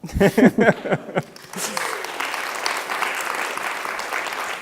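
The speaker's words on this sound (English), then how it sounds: "I think that deserves a clap" Audience clapping during an on-stage conversation event. A voice speaks over the first second before a broad, even patter of applause from the crowd rises and carries on steadily to the end.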